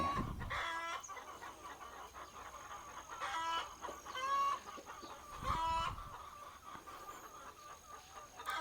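Chickens cluck and cackle close at hand at a farm coop, repeated bursts from several birds over a faint continuous whine.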